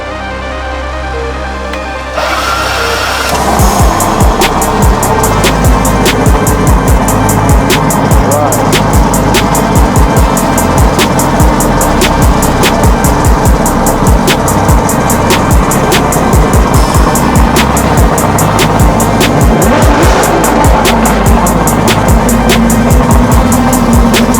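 A cold Johnson outboard boat motor, mounted at an angle, cranks briefly and then catches, settling into a loud, steady, rapid-firing idle that runs on without a break, close by and with no talk over it.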